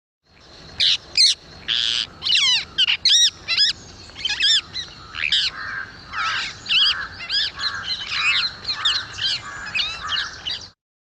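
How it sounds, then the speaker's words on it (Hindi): Harsh, screechy rose-ringed parakeet calls repeated in rapid bursts, a series of shrill squawks close by, with no speech. "ये सामान्य तोता यानी रोज़ रिंग पैराकीट की आवाज़ है"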